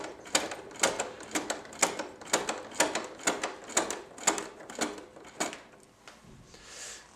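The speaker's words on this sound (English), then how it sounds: "triggers the machine to change direction once it's sewn the full length of the buttonhole" A Janome 2522 sewing machine stitches a buttonhole with a steady, rapid mechanical chatter of even pulses, close by, and fades out near the end.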